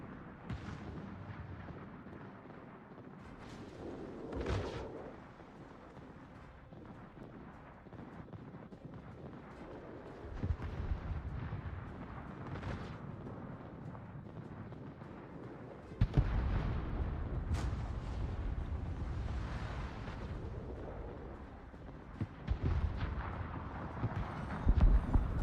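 Warship guns fire in the naval combat game World of Warships, heard as several heavy booming blasts with deep rumbling tails over a constant background roar of wind and engine noise.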